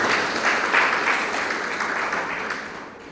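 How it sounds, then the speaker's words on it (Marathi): An audience at a lecture applauds with a continuous wash of many hands clapping together, fairly loud at first and gradually thinning and fading toward the end. "टाळ्या वाजवून सगळ्यांचं अभिनंदन."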